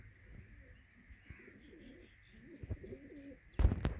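A pigeon coos softly in a low, rolling murmur over a faint steady hum, and a sudden louder bump or rustle comes at the end.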